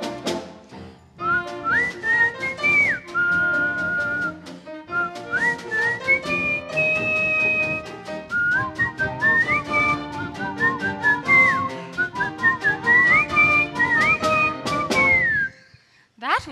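A tune is whistled in a stage performance of the musical Camelot. The bright, melodic phrases are clear and sustained, rising and falling and running almost continuously with brief pauses.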